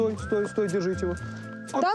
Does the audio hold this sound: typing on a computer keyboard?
no